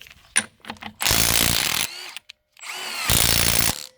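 A Milwaukee M12FIWF12 stubby impact wrench working a wheel nut: two loud, close bursts of rapid hammering impacts, each under a second long, with brief trigger blips and motor whir before and between them.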